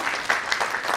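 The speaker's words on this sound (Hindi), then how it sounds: "जोरदार तालियां से नवाज देगा" Audience applause at a mushaira poetry gathering in Allahabad, a brief burst of dense clapping, steady and fairly loud throughout.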